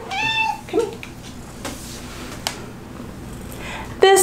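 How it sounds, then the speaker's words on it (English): A black tuxedo cat meows close by, a short cry at the start and another at the end, with a few softer chirps between over a quiet room with light background noise. "I have two kitties. They're both black tuxedo cats."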